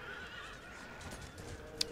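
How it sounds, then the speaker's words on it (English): Horses neigh amid continuous cavalry battle noise in the Imperial Splendour strategy game, with Swedish lifeguard horse charging Prussian troops; a sharp whinny cuts through near the end. "We'll need to form square against the Swedish lifeguard horse, which is currently attacking us from the back."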